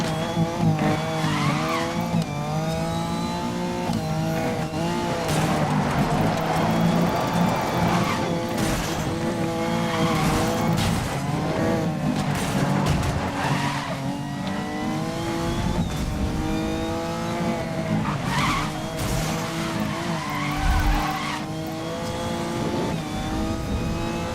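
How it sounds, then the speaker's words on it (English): A car drifts through corners in Need for Speed Most Wanted 2012, its engine revving and wailing as tires squeal in long skids, loud and continuous with shifting pitch and no talking. "Gotta nail a drift."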